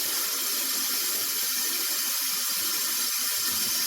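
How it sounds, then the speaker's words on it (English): A Red Delicious apple gets rinsed under a running kitchen tap, with a steady loud hiss of flowing water close by throughout and no voices. "I'm going to have a red delicious apple, but I have to wash it. I rinse my apples off."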